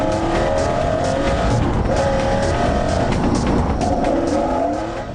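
A high-performance custom sports car with a 240 mph top speed accelerates hard, its engine note loud and close, climbing steadily in a sustained roar with faint tire squeal.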